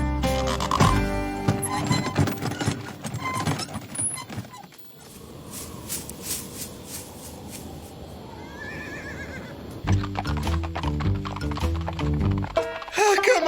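Cartoon horses trot with quick, rhythmic clip-clop hooves alongside loud whinnying and neighing, over busy Western-style music and shouted voices, with a calmer stretch partway through before the galloping resumes.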